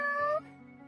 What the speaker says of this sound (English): you hear the kitty cat?